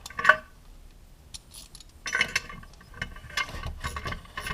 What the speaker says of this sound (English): Once it's loose, the ratchet should take it all the way out.